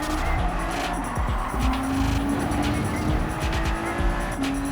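A Nissan GT-R in Gran Turismo 7 at the Nürburgring, engine droning steadily near and loud while braking and reaccelerating, with tire squeal and shifting engine pitch through a corner.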